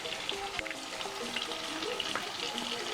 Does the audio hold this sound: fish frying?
yes